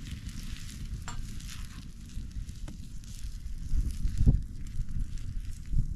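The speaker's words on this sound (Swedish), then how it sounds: "Och sen så värmer man på smeten tills det börjar bubbla." Kolbulle batter fries in fat in a pan over an open fire, giving a steady close sizzle and crackle with a few louder pops toward the end.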